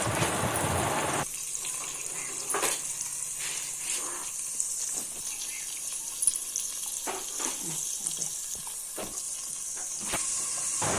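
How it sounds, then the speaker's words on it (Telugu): Ground onion paste spluttering in oil for a crab curry, a bright hiss at the start settling into a quieter sizzle with scattered pops and scraping, close by, no talk. "తగినంత నూనె వేసి మిక్సీ కొట్టిన ఉల్లిపాయ ముద్ద వేసుకోవాలి"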